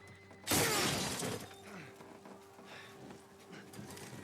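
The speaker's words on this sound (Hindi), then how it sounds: "तो मुझे जल्दी से शीशा तोड़ के यहाँ से निकलना चाहिए।" Car window glass smashed in the video game The Last of Us, a sudden loud crash of breaking glass that fades into scattered crunching fragments over a low ambient hum.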